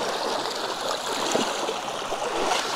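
A mountain river in eastern Abkhazia rushes over stones in a steady, full broadband wash of flowing water, close and continuous, with no voices over it.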